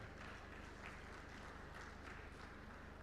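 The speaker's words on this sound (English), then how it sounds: "May I request all the men in the audience to clap for the women." Men in the audience at a Women's Day event held by the FICCI Ladies Organization applaud the women, a steady, faint wash of many hands clapping at a distance with no talk over it.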